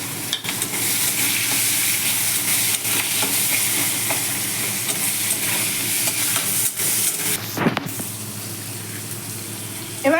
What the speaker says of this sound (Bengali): এবার যে আমি এই পেঁয়াজগুলো ডুমো ডুমো করে কেটে রেখেছি, সেই পেঁয়াজগুলো এর মধ্যে ফোড়নের মতোই দিয়ে দেবো।